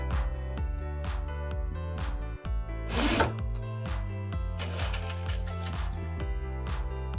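A sewing machine stitches a tote bag seam with a fast, steady mechanical rhythm of needle strokes. The run pauses briefly midway and is broken by a short rustle of fabric handling.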